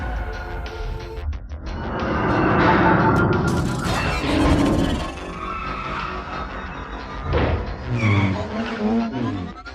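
A car drifting during a movie chase, tires skidding and squealing in long sustained screeches over engine roar, with a truck nearby, the squeal swelling and fading across the scene.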